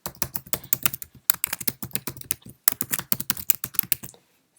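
Brisk typing on a desktop computer keyboard, close and clear, in quick bursts of keystrokes with a couple of short pauses, ending in silence.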